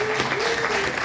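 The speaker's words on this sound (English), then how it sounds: "Can we give a round of applause for Master Frank?" A panel audience applauds a panelist at a Philadelphia wall writers event, brief steady clapping with a faint voice and a sustained tone running underneath.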